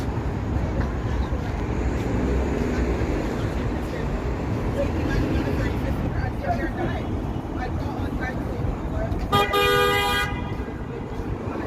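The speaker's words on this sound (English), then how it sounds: "Not sure what they think they're accomplishing with the honking here." Car horns honk repeatedly over a dense Toronto traffic gridlock rumble, with one long, loud blast near the end.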